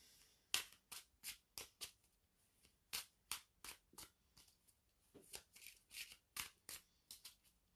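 Tarot cards are shuffled during a reading, giving a run of quick, crisp riffling snaps, about sixteen short bursts in an uneven rhythm, close and fairly quiet with no talking.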